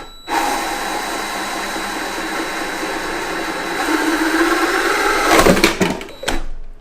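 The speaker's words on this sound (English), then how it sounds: "I stuck my drill bit through the hole there" A power drill whirs steadily for several seconds, driving a bit through a hole, rising slightly in pitch and strain near the end before cutting off. Close and loud, no voices.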